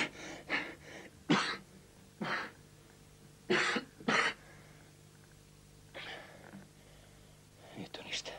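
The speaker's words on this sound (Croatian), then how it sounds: "Umorio sam se, zato i kašljem." A man coughs in a series of short, harsh bursts spaced across a quiet room, some paired closely together, with faint breathy sounds in between.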